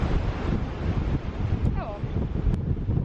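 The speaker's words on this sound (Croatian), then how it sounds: "Lijepo, ali jako puše." Strong wind blows by the sea at sunset near Barcelona, a loud, constant roar buffeting the microphone, with faint surf and one brief voice-like sound partway through.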